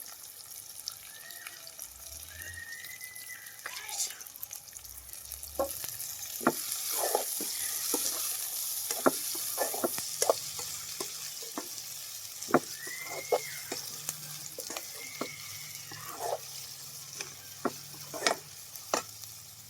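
Onions and green chillies fry in a pan with a soft, constant sizzle, broken by repeated sharp scrapes and taps of a spoon as they are stirred, with no talking.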